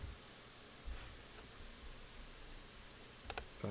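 Mouse clicks while working in AutoCAD, a faint click early on and then a sharp double click near the end, alone over quiet room hiss.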